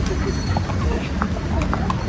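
A horse's hooves clip-clop steadily on a park path in Baguio while people talk nearby.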